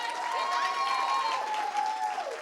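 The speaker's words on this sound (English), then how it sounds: "Can we give a round of applause for Charity?" An audience at a tech speaker event claps for Charity Majors, the applause light and somewhat distant beneath a sustained whistling tone with a couple of voices rising.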